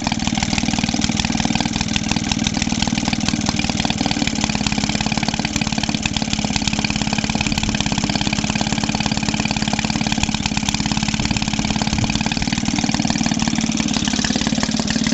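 Small gasoline engine from a Maytag Model 72D washing machine, just kick-started and warming up, runs loud and close with a steady, rapid, even putter the whole time.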